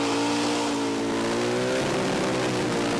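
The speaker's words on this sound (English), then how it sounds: "have a listen to that. Really, really sweet sounding, big, consistent revs." A 1,500 horsepower big block Chev burnout car holds a loud, steady high rev, its engine note changing pitch slightly near the end while staying up at consistent revs, with no talking.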